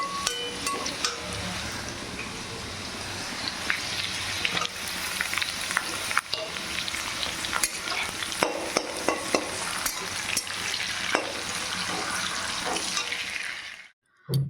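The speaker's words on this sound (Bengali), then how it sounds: "ভেজে নিয়ে এই যে ফ্রাইড রাইসটা বসিয়ে দিয়েছি ফ্রাইড রাইসটা একটু নাড়াচাড়া করে হয়ে যাবে" Vegetable fried rice sizzles and fries in a pan while being stirred, with steady close scraping and clattering over a continuous hiss, then stops abruptly at the end.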